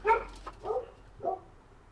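Dogs barking outdoors near a radio-controlled semi truck build, three short sharp barks spaced about half a second apart, fairly close and clear with no talk over them.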